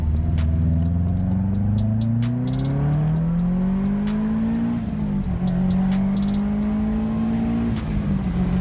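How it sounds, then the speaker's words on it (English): A turbocharged Subaru WRX STI accelerates hard, its engine note climbing steadily through the revs with brief dips at gear changes, loud and close with turbo whine over the exhaust drone. "Then suddenly, the turbo came alive."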